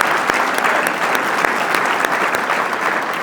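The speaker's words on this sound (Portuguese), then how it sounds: "peço também uma salva de palmas ao nosso deputado" Loud, sustained applause from a large crowd at a Chega party political rally in Portugal, dense clapping with a few sharper claps standing out, continuous throughout.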